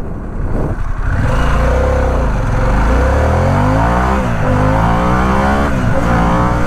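A 2021 Harley-Davidson Pan America motorcycle accelerates hard from a standstill toward 60 mph, its engine note loud and close and climbing through rising revs with gear changes, with no talking.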